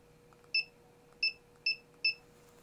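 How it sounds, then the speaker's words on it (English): An ESP32 buzzer sounds four short, clean electronic beeps at uneven intervals, each set off by a press on an IR remote, over a faint steady hum. "the buzzer should sound."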